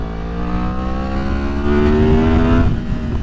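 A 2023 Yamaha MT-10 motorcycle with a Leo Vince decat exhaust accelerates hard, its loud, close engine note climbing steadily in pitch over a few seconds with rough wind rumble underneath.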